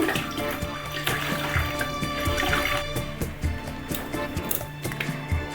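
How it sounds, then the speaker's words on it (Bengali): Bottle gourd leaves being squeezed out of salt water by hand, giving close wet splashing, trickling and dripping that continues steadily throughout, with no talk. "লাউ পাতাগুলোকে যে লবণ জলে ভিজিয়ে রেখেছিলাম এবারে লবণ জল থেকে চিপে উঠিয়ে নিচ্ছি"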